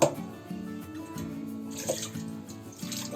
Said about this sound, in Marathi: थोडं पाणी टाकते.